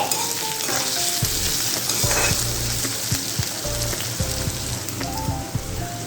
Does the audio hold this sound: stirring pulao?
yes